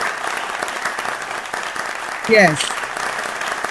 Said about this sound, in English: can we just give a round of applause